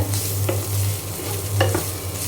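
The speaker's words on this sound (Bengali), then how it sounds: "এখানে উস্তা আলু ভাজিটা বসিয়ে দিয়েছি" Bitter gourd and potato fry cooks in a pan, a continuous sizzle with a low steady hum beneath and a few sharp clicks of stirring, close and fairly loud.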